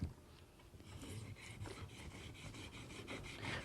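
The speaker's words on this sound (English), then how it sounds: "if you just run the knife again fairly flat, or as flat as you can get it, just to smooth your bevel in." Steel knife blade rubbed fairly flat along a sharpening stone to smooth the bevel, giving steady rasping strokes in a repeating rhythm, close and moderately quiet, with no voices.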